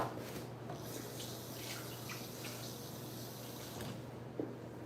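Water from a tap running into a bowl in a home kitchen, a faint steady pour that carries on for several seconds against a low background hum.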